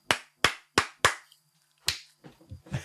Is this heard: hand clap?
yes